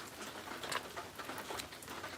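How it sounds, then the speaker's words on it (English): Rain falls outdoors in a steady, soft patter with scattered brighter drips, quiet and continuous, with no voices. "Don't we love the sound of the rain?"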